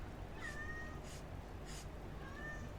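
Cats meow indoors, two short rising calls a couple of seconds apart, faint and close, with a few soft rustles between them and no talk.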